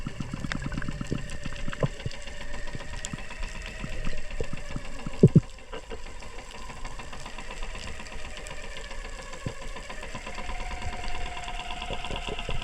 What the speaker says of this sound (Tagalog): Distracted ang isda mga ka-adventure dahil sa tunog ng bangka